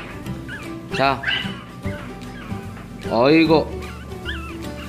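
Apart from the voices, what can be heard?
Black-and-tan Pomeranian puppy whimpering and yipping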